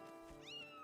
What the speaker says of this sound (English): It sounded like a cat.